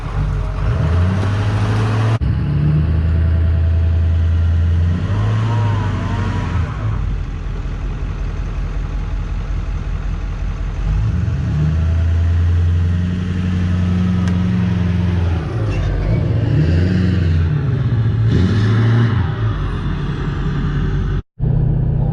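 A pickup truck with a dually front-end conversion and a 6.4 engine showing 286,000 miles climbs off-road, its engine loud and close, revving and surging in repeated waves before cutting off abruptly near the end.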